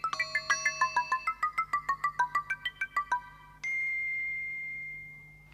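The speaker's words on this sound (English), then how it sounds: "the bell round his neck went bing-bang, bing-bang" A bell on a goat's neck rings in a children's story tape about the Billy Goats Gruff, a quick series of bright chiming tones in a descending-and-rising pattern, then one sustained ringing note that slowly fades.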